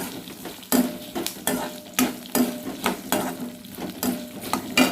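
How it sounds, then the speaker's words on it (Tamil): Peeled garlic sautés together with gooseberries in a pan for gooseberry chutney. A spoon scrapes through the mix in a steady rhythm of about a dozen strokes, with continuous sizzling underneath, close and clear, and no voices. "அதுவும் இதோட ஒன்றா சேர்த்துக்கிறேன் வதங்கி வரணுங்க நல்லா எல்லாமே"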